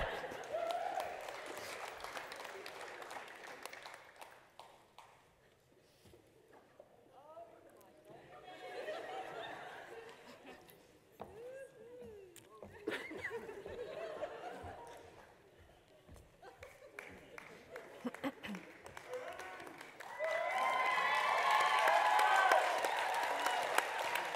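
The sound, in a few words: audience clapping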